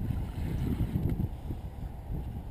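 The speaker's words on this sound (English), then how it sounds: "Sorry if the wind's a bit loud for you there, guys" Wind buffeting the microphone at a carp fishing spot, a loud, continuous low rumble with gusty surges throughout and no voices.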